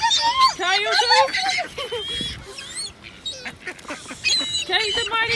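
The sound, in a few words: ducks quacking in a harbor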